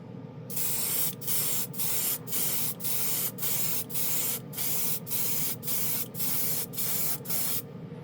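Seymour Extreme FX chrome spray paint hisses from an aerosol can in about ten short, even bursts, close and steady, laid on as a final coat with no voices.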